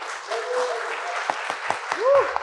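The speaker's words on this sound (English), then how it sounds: "let's give them a huge round of applause for" Applause rises for a bride and groom, Krishn and Mallika, at a wedding reception at Lakeview by Carmen's in Hamilton: a broad wash of clapping from the guests under voices, with a few sharper claps near the end.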